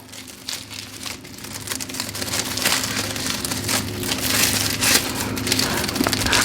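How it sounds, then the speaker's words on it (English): A women's clutch is wrapped in tissue paper, giving close, continuous crinkling and rustling that builds in loudness, with sharper crackles throughout. "wrap it up real nice in the tissue paper"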